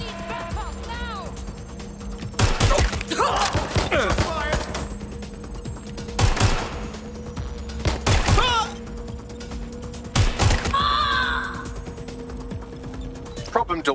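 Gunfire in the video game Watch Dogs: Legion, several loud sharp bursts spaced a couple of seconds apart over a mechanical hum, with speech in between.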